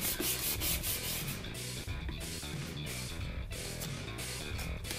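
Continuous sanding of a Pepakura model with 220-grit sandpaper, a steady close scratchy rubbing with rhythmic back-and-forth strokes and no talking.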